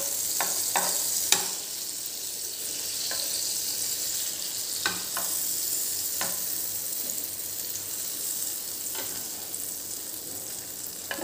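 Wefer pav toasting in butter in a pan, a steady close sizzle and fry hiss running throughout, broken by a few sharp scraping clicks as the bread is turned from side to side.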